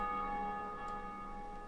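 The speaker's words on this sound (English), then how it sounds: "Pull the bell." A church bell pulled and rung in the video game Dark Souls 2, a steady sustained metallic ringing with layered overtones that hums evenly throughout, fairly quiet and alone.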